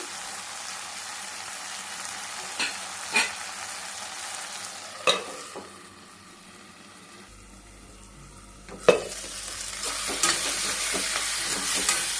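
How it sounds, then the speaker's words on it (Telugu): Tomatoes cooking down in a steel pan, with a steady soft sizzle and a few sharp scrapes and clinks of a spoon stirring at intervals, close and without talk. "టమాటాలు మంచిగా మెద్దగా మగ్గాలండి స్టీల్ కాబట్టి మాడిపోతుంది మధ్య మధ్యలో చూసుకుంటుండాలి"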